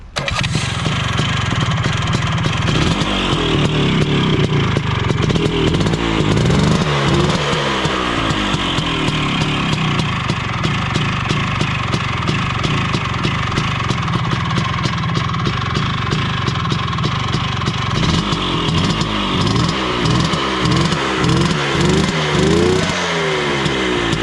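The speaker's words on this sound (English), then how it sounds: "Now we have started the engine and it works fine" A Vespa PX scooter engine fitted with a SmartCarb SC2 carburetor runs loud and close for the whole stretch, a rough two-stroke idle with repeated revving rises and falls, no voices over it.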